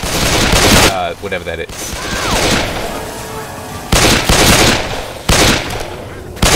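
An M60 light machine gun with a 300-round capacity, fired in the Left 4 Dead game, rips out loud bursts of automatic fire with gaps between, while a voice talks over the quieter stretch in the middle.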